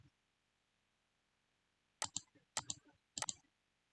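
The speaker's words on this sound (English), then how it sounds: "I'm just clicking. I'm not paintbrushing on." Computer mouse clicks in Affinity Designer while adding a watercolor texture: three quick, close bursts of sharp clicks, each a cluster of two or three taps, spaced about half a second apart after a quiet start.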